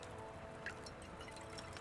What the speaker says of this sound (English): And pour.